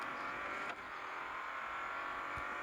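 A Bugatti La Voiture Noire lapping the Bugatti Circuit in a racing video game, its engine a steady, smooth whir and drone held at constant pitch throughout, with a brief dip partway through.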